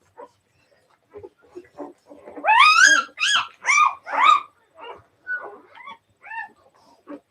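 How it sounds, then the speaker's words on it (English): A dog whimpers to be let out, a run of high, wavering whines rising and falling in quick succession, then softer, shorter whimpers trailing off, fairly close with no talk. "Sounds like a dog wants out."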